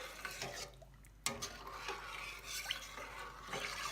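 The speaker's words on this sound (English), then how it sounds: "So once you have both, we're going to give it a stir." A rice pudding (arroz con leche) mixture of rice, milk and sweetener stirred in a pot: soft, close scraping and swirling with a brief clink of the spoon, faint throughout, without voices.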